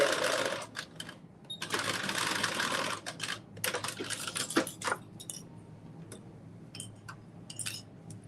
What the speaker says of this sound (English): I am just sewing right now my facing pieces